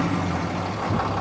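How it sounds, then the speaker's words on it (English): A 2009 Dodge Ram 2500 Mega Cab with the 6.7-liter Cummins turbo diesel runs close by, a steady low engine rumble with a brief swell near the end. "let's go ahead and start this truck up. This is a 2009 Dodge Ram 2500."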